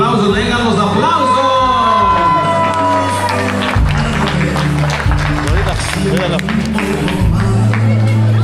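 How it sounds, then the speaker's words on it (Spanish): Wedding guests applauding and cheering at a reception in Little Rock, Arkansas, loud dense clapping with whoops over live music, with a voice talking over it at the start. "Vengan los aplausos, vengan los aplausos"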